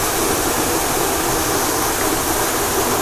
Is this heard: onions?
no